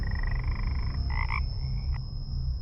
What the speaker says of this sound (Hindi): पास के तालाब से मेंढकों की आवाजें आ रही थीं।